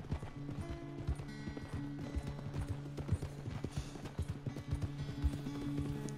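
Horse hooves trot steadily in Red Dead Redemption 2, with a brisk, repeated clip-clop rhythm close up that runs through the whole stretch over a bed of game ambience and music.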